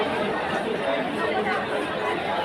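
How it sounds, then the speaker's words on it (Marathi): A large crowd of passengers at Diva railway station, steady murmuring chatter of many voices, close and dense, with no single voice standing out. "दिवा रेल्वे स्थानकात ही मोठी गर्दी आपण पाहतोय प्रवाशांची"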